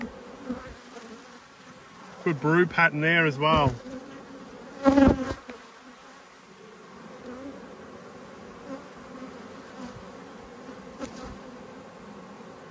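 Honey bees, some Italian, buzz steadily at a hive, with brief louder bursts near the microphone, while a person speaks quietly over the hum.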